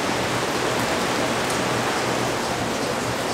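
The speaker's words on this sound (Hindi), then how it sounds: "बारिश हो रही है हल्की हल्की" Light rain falls steadily in Kasol, a dense even hiss of drops on surfaces that holds at a constant level throughout, with no voices.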